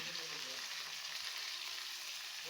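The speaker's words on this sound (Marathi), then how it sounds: "कांदा आपल्याला तेलामध्ये छान असा परतून घ्यायचा आहे" Chopped onion and curry leaves fry in hot oil in a pan, making a steady, dense sizzle that holds unbroken throughout, with no other sound and no voices.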